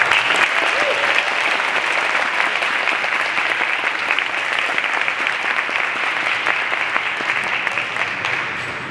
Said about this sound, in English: All right, one final round of applause.